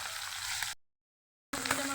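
Surma fish frying in hot oil gives a steady, soft crackling sizzle that drops out completely for a moment and then resumes with the same bubbling hiss.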